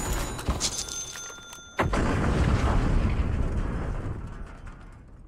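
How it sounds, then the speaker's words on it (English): In Call of Duty: Warzone, a precision airstrike detonates with a sudden heavy boom, preceded by sharp crackling shots, then a long rolling roar that slowly fades. "Enemy precision airstrike."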